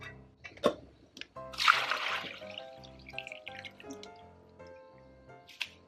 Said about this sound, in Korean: 그래서 여기다가 채를 걸러줄 건데 저는 지금 가지고 있는 그 망이 이게 제일 촘촘한 거라 이거 사용할 거예요